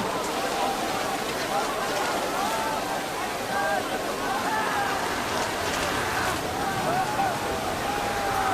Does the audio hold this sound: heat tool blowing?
no